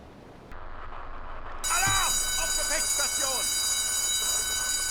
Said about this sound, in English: Let's sound the alarm, get everybody on battle stations,